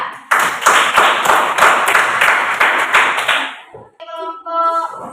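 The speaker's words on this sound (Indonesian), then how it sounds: "Kita berikan aplaus untuk kelompok 2." A classroom of junior high students gives group 2 a round of applause: brisk, dense clapping for about three seconds that fades out, followed by a brief voice.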